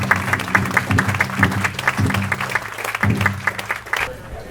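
Applause honoring a tribal youth council at a remembrance gathering: a crowd claps steadily and warmly for several seconds, with scattered cheers and voices mixed in before it tapers off.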